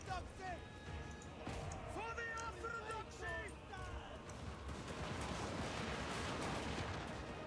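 Gunfire from shooting units in Total War: Warhammer 3, a thick crackle of massed shots and battle din building into a dense continuous roar, with someone talking over the first half.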